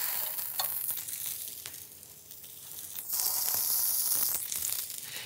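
Stuffed peppers go into a hot pan of olive oil and sizzle loudly and steadily, the frying growing brighter and stronger in the second half, with no one talking.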